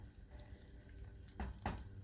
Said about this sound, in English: if you could add more water to your pot